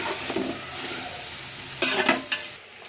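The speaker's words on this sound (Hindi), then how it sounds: "इनको सब्जियों के साथ फ्राई कर लेंगे।" Vegetables for chicken fried rice frying in a pan, a close sizzle with stirring scrapes and a couple of louder bursts of clatter near the end.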